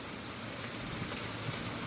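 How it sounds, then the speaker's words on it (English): Steady, dense hiss of rain during a thunderstorm, heard through open windows, even and continuous throughout, with no voices. "You can hear the rain much better with the windows open."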